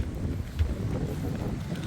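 Strong gusty wind blowing across an open yard by rice fields, knocking mangoes from the trees; a steady low roar with rumbling buffeting against the microphone, no voices.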